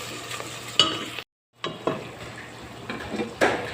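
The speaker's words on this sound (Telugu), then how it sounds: "ఇక్కడైతే ఆనియన్స్ ఫ్రై అవుతున్నాయి పప్పు వండడానికి గార్లిక్ పేస్ట్ కూడా వేసుకున్నాను" Onions frying with garlic paste in a pan for Arabic-style dal, a steady close sizzle broken by stirring clatter and a brief gap of silence.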